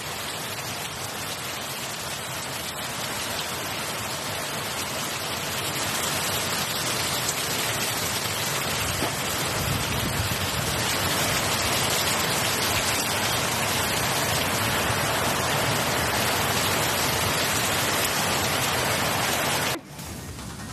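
Heavy monsoon rain pours down in Belagavi, Karnataka: a dense, steady hiss and roar of falling water with no voices, continuing evenly throughout before cutting off abruptly at the very end.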